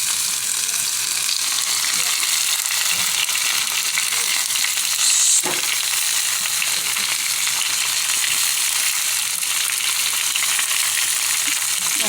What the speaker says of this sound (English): go ahead and add your potatoes and your onions and your garlic and brown it real good